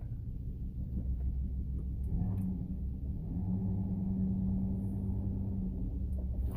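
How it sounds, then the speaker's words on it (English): A 2008-2012 Ford F350 6.4 diesel truck creeps along slowly, its low engine and road rumble steady throughout, with a brief heavier surge suggesting hard braking; no talking. "You're going to be driving really slow and then slam on the brakes."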